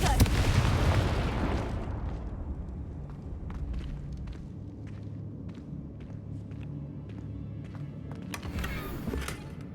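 Confringo blasting spell from Hogwarts Legacy erupts in a loud, booming explosion that rumbles and decays over a couple of seconds, followed by quieter thuds, clicks and ambient game sounds.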